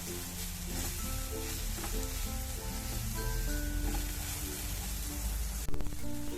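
Ripe nendran banana and coconut are stirred in a hot pan, giving a faint, steady sizzle with light scraping under a low background hum, and a brief louder knock near the end.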